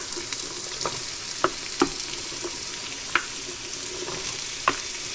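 Mirepoix and peppers sauté with garlic in a pot over lowered heat. A steady, moderate sizzle carries through the whole stretch, with scattered sharp knocks and scrapes of a spoon stirring at irregular intervals.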